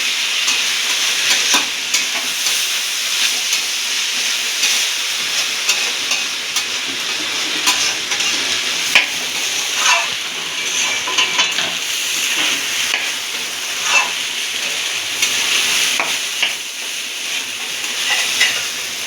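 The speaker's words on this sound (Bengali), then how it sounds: "ঘিয়ের মধ্যে চালটাকে মিক্স করা চালটাকে একটু ভেজে নেব" Rice grains frying in ghee over medium heat for a home-style pulao, a steady bright sizzle with soft crackles and occasional scrape-like stirs running continuously, fairly close and alone without voices.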